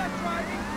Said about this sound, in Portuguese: Vocês viram a sirene ali?